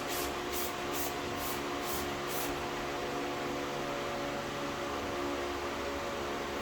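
Meguiar's non-acid alkaline wheel and tire cleaner sprayed onto a car wheel, a run of about six quick trigger-spray bursts in the first few seconds, then a steady hiss of background noise.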